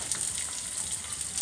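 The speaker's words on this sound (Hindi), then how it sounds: "फ्राई करेंगे।" Potatoes fry in hot oil over a high flame for honey chili potatoes, giving a steady, close, bright sizzle with no speech.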